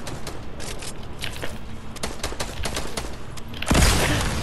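Enemies shooting in a video game, rapid bursts of gunfire cracking in quick irregular volleys, ending in a louder, heavier burst of fire.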